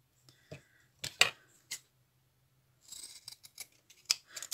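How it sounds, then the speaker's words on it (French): Fiskars scissors snip through scraps of fabric in a few short, crisp cuts at close range, separated by quiet pauses in a calm crafting setting. "Ces ciseaux là, Fiskars."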